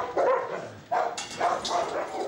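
Dogs at a large German animal shelter bark excitedly at feeding time, with several quick, sharp barks in a row close by and voices in the background.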